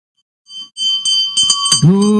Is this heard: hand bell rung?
yes